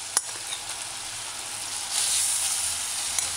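Finely ground garlic stir-fried in a pan over medium-low heat for chicken callaloo stew, a steady close sizzle that swells slightly partway through, with a faint knock of the cooking spoon near the start.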